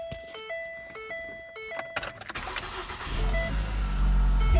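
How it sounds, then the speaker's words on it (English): A Ford Focus engine cranks and fires into a steady idle, with clicks and tones before the start, then a rough, loud low rumble that holds on without talk. "start the car and let it run for about a minute and let that oil get all pushed through the engine"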